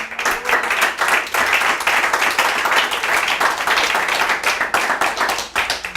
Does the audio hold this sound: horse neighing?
no